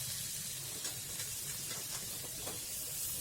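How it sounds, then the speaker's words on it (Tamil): Tomatoes stirred and sautéing in a pan for mutton gravy, a constant bright sizzle and hiss with small spoon scrapes and crackles rising now and then, close and steady throughout. "தக்காளி போட்டு நல்லா கலந்து விட்டுக்கலாம்"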